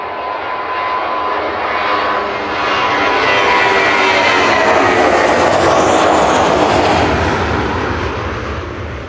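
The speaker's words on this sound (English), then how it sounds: "Lufthansa departing back to Frankfurt" A Lufthansa Airbus A321, thirteen years old, takes off from Manchester Airport bound for Frankfurt, its jet engines roaring loud and steady with a broad rushing swell that builds and holds throughout.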